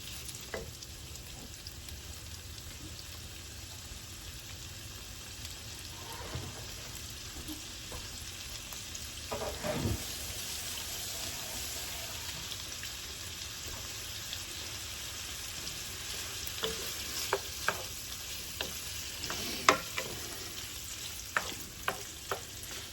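Shrimp stirred around a pan over slightly above-medium heat sizzle in a steady, fairly quiet hiss, with occasional clicks of the utensil moving them, heard close without speech.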